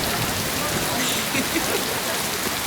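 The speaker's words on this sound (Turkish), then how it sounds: "Ama çok güzel yağıyor." Steady rain falls outdoors as a continuous close hiss across the whole stretch, with no other clear sound standing out.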